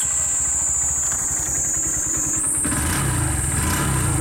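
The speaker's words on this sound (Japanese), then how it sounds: "こんな小さいバイクなのに、結構ノーマルなのに結構のぶとい音がして、その気にさせてくれるといった感じですね。" A 2020 Honda Grom, a small stock motorcycle, runs with a loud, close, throbbing engine note that holds steady and rises slightly in pitch partway through.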